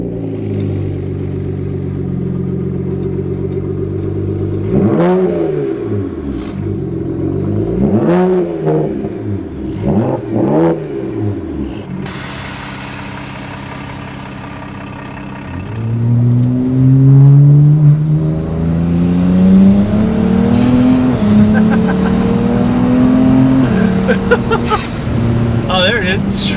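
A budget-built BMW 1M clone car revving and pulling away, the engine rising and falling through several bursts before a long climbing acceleration, heard from inside with people talking over it.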